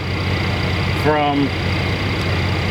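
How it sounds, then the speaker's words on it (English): A steady mechanical generator engine drone runs throughout at close range, with a brief word spoken over the hum. "Sorry about the noise, that's just my voltage source running."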